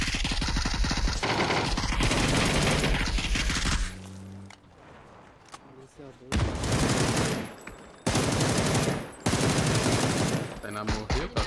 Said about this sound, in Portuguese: Tem muito tiro, meu.